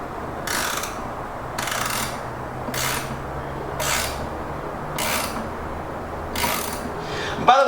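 A wrench snugs up a fitting on a Hobart 27i plasma cutter, giving six evenly spaced ratcheting bursts about a second apart, close and moderately loud over a low steady hum.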